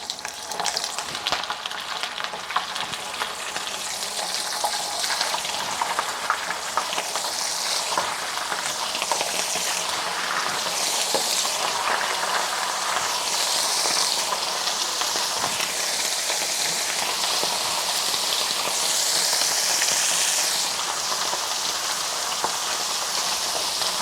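Saltfish frying in hot oil for Jamaican escovitch, a steady dense sizzle and hiss with crackling pops, loud and close, with occasional stirring and no talk.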